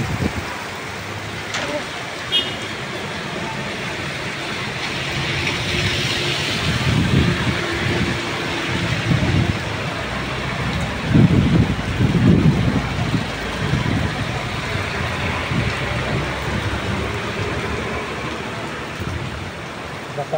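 Heavy rain pours in a dense, steady wash during a drive, with occasional louder gusts or rumbles and voices talking underneath.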